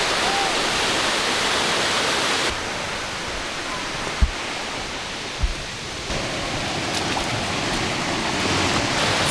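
A waterfall somewhere in Asia roars as a steady, full rushing noise that shifts level a couple of times, with a few soft knocks near the middle and no voices.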